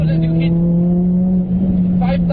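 A Mugen RR with a VTEC engine and no turbo revs hard on a test drive in Pannala, Sri Lanka, a steady, loud droning engine note held throughout while someone talks over it.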